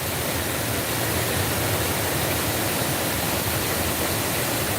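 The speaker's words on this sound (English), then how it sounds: "Very lovely waterfall," A waterfall in a Kenyan forest gives a loud, constant, broadband roar with no breaks, heard close up with no voices.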